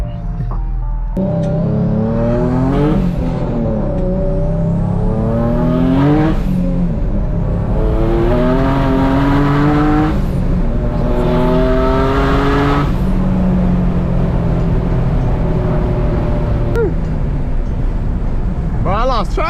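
A built, turbocharged Infiniti G37 accelerates hard on a cold day, heard from inside the car: the engine note climbs repeatedly through several gears with rising whine and turbo rush, loud and close throughout.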